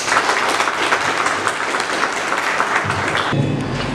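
Loud, dense applause greets a director introduced at a Haitian gathering on constitutional amendment, sustained clapping from a room full of people that drops off sharply just before the end.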